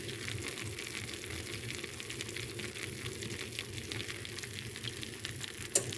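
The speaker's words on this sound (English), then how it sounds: "Hear it sizzling." Steady, close crackling sizzle of a baked casserole bubbling in its dish, continuous and even, with a faint click near the end.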